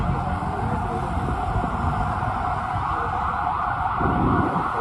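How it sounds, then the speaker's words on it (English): Ambulance siren wailing along a New York City street near the Brooklyn Bridge, loud and steady over traffic rumble, swelling slightly near the end with no talk. "We'll follow the ambulance."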